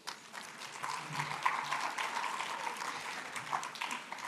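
An audience at the Pennsylvania Leadership Conference claps in a steady, moderately loud round of applause, with individual hand claps standing out within a room-filling wash.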